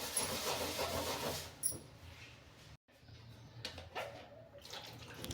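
Water running and splashing while a gas stove is washed by hand, a steady close hiss of flowing water with brief clatters, one short silent break midway.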